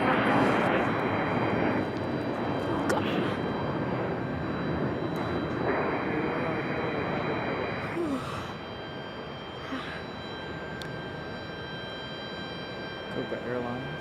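A Copa Airlines airliner flying in near Raleigh-Durham International Airport, a steady distant engine roar that eases off partway through, with occasional breaths and murmurs from someone nearby.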